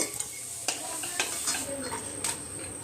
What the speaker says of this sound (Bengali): শুকনো লঙ্কাটা ফোড়নে দিয়ে দেবো